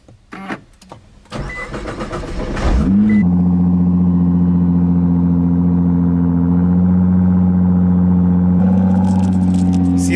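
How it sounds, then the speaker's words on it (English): A white 2019 Nissan GT-R on a cold start: a few clicks and a cranking whir, then the engine catches with a loud rising flare and settles into a steady, heavy, close-up idle that holds to the end. "Let's do a cold startup."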